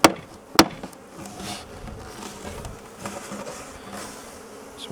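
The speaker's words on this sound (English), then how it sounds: "So I'm going to knock these bees off." Honey bees buzzing steadily as they are knocked off a honey comb during a hive inspection, with two sharp knocks at the start and a continuous close swarm hum throughout.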